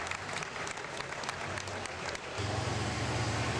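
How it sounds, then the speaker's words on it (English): Crowd applause at an NTPA Pro Stock tractor pull in Henry, Illinois, a sustained wash of clapping with a low engine drone rising underneath in the last second. "Give him a nice round of applause to Rick Campbell here this afternoon"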